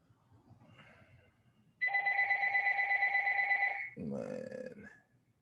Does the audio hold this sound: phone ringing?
yes